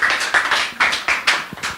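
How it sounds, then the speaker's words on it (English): A small audience at a debate on godfatherism and democracy claps in quick, uneven, fairly close bursts, a handful of separate claps rising and falling over a short stretch, with no talking. "A round of applause, please."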